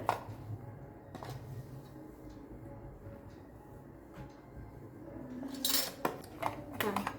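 Small plates from D Mart clink and rattle softly as they are handled, with a few sharper ceramic knocks toward the end against a quiet room background.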